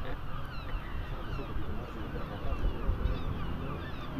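Seagulls call repeatedly with faint, thin cries over a steady rush of wind and crowd noise near a demolition site in Dundee, their calls scattered and distant.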